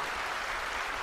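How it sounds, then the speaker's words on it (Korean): Congregation applauding during a church sermon, a dense, steady patter of many hands clapping at moderate loudness for about a second, with no talking. "박수 한번 하실래요?"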